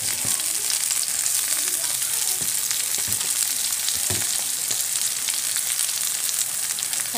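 Japanese papaya leaves stir-frying in a hot pan make a loud, continuous sizzling hiss with occasional stirring scrapes and crackles, close up and steady from start to end.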